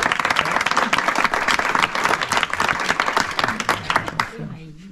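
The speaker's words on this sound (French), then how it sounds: "Karen et Serge qui sont là, on peut les applaudir." An audience applauds Karen and Serge at a morning academy session, a dense burst of close clapping that carries for about four seconds before quickly tapering off, with a voice speaking over the applause.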